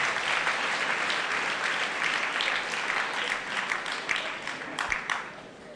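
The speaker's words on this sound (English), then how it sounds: "Clap for the whole staff once again" A crowd at a school thanksgiving mass applauds the staff in sustained, dense clapping that stays loud and steady throughout with no talk over it.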